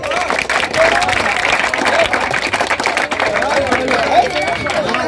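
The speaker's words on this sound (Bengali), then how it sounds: "উভয়ের জন্য একটু হাততালি হয়ে যাক" An audience at a cultural programme in Puri applauds the competition champion and runner-up, a dense burst of scattered hand claps mixed with crowd noise.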